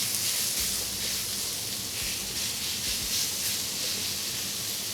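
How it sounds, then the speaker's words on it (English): Pork stir-fries with green beans in a hot wok, giving a steady bright sizzling hiss throughout at moderate level, with a few soft low knocks and no talk. "it's important when stir frying that you always have a sizzle sound"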